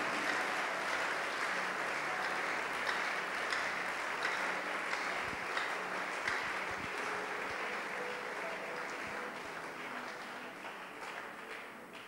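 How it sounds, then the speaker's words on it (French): A church congregation gives sustained applause after a long Bible reading, dense even clapping across the whole stretch, slowly fading, with some voices mixed in. "Est-ce que nous pouvons ajouter une bonne acclamation à cette longue lecture?"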